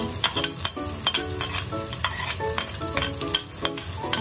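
Onions sautéing in very hot oil, a busy close sizzle with frequent metallic clinks and scrapes of a utensil against the pan in an irregular rhythm, with no talking.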